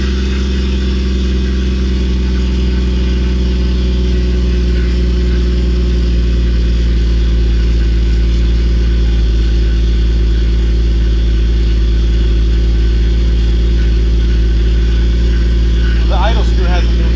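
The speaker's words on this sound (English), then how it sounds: "Yeah, it's idling about 1500." A Toyota Supra that had been sitting for years idles high at about 1500 rpm, a loud, steady, low engine drone with a constant hum that never changes across the whole stretch, and people talk briefly over it.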